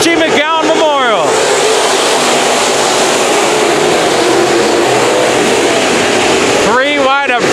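IMCA Modified race cars accelerating hard at the start of a main event at Bakersfield Speedway, tires spinning, a dense, very loud engine roar throughout, with a commentator talking over it and engine pitch sweeps at each end.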